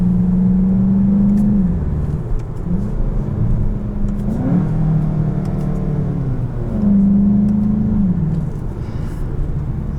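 A 2020 Volkswagen Jetta GLI with its DSG gearbox in manual mode runs at speed on the Autobahn, a steady engine drone and road rumble rising and dipping in pitch through quick gear changes, heard from inside the cabin.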